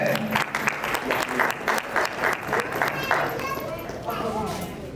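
Steady applause for an award recipient at a ceremony, a crowd clapping continuously at moderate loudness for several seconds before easing off near the end.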